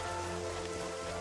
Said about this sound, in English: So relaxing, this rain.